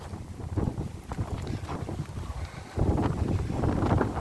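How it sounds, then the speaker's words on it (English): Wind gusts buffet the microphone beside a small lake, producing low rumbling thumps that swell louder in the second half, with no other clear sounds. "Oh, the wind's horrible on this side."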